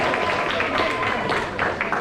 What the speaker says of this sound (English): give him a round of applause as well